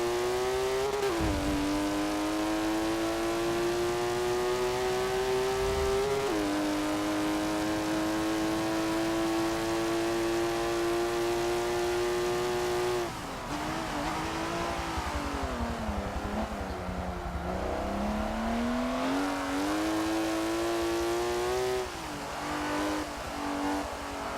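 A loud car engine in the racing game Forza Motorsport 7 revs and climbs steadily through the gears, dropping pitch at shifts and rising again, roaring continuously with no talking.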